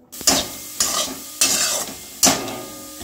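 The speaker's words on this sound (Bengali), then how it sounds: "পেঁয়াজ রসুন আর জিরেটা এখন ভালো মতো করে আমি ভেজে নেব" Onion, garlic and cumin frying in a pan for palak paneer, with four stirring bursts of sizzle at a steady rhythm, close and moderately loud, and no talking.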